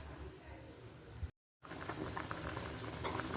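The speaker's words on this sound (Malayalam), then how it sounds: "ഇപ്പോൾ കണ്ടോ നന്നായിട്ട് ഉണ്ടോ തിളച്ച് വന്നിട്ടുണ്ട്" Curry with raw coconut oil bubbling in a pot, a faint, soft patter of boiling that breaks off for a moment of silence and then resumes.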